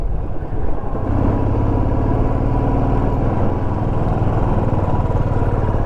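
A motorcycle engine labours in first gear as the bike strains up a steep mountain road near Manebhanjan toward Sandakphu, a loud, continuous low rumble with steady throbbing and no voices.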